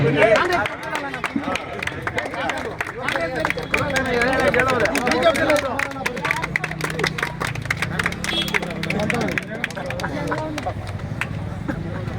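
An audience at a felicitation ceremony gives sustained clapping beneath loud talking over a public address system, with a continuous rattle of applause throughout.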